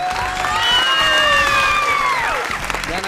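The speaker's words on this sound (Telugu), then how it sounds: "ఒకసారి గట్టిగా చప్పట్లు కొట్టండి" A studio audience on a Telugu TV quiz show cheers loudly, with whoops and shouts over a steady wash of crowd noise and clapping, rising briefly and then easing off.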